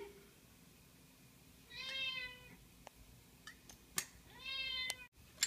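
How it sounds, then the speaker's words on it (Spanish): A domestic cat meows twice, clear and fairly close in a quiet kitchen, with soft clicks and a sharp tap in between. "Oyeron mi gato, ese es mi gato"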